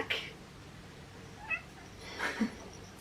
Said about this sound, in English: which means the cat's back